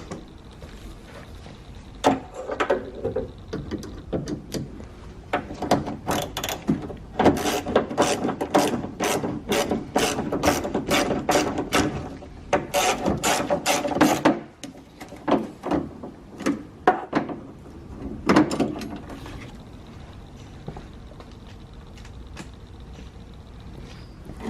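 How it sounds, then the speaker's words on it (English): A Phillips screwdriver works a screw free from the exterior door handle of a 2007-2011 Toyota Camry Hybrid, giving close, repeated ratcheting clicks and scraping rubs in uneven bursts with short pauses. "So we're going to put a screwdriver, a Phillips, through here and remove that."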